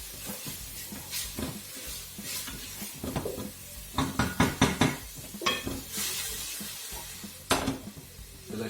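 Massaman curry paste cooking down in a pan gives a soft sizzle under clattering utensil knocks and scrapes as it is stirred, with a cluster of sharp taps midway and another near the end.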